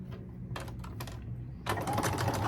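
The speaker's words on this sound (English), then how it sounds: "Sewing up all the little darts." A sewing machine stitches small darts into pants made from cheese bags, giving a steady close mechanical whir with short bursts that swell louder toward the end.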